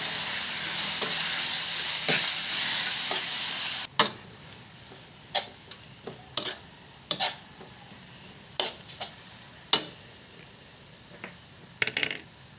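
Ground pork and onions sizzle in a pan for pork giniling. A loud frying hiss at first drops to a softer sizzle, broken by regular clicks and scrapes of a spatula stirring.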